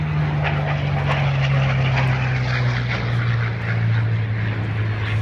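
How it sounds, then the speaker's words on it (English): A World War II P-40 Warhawk fighter makes a low photo pass at an airshow, its propeller engine a loud, continuous droning roar whose pitch sinks slightly as it moves by, with crowd noise faintly underneath. "Beautiful photo pass by the P-40 Warhawk."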